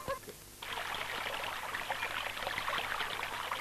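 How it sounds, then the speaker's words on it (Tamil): Water runs steadily past both sides of a rock in the middle of a stream, a continuous close rushing wash that starts abruptly after a brief quieter moment and carries on evenly. "ரெண்டு பக்கம் தண்ணி ஓடுது"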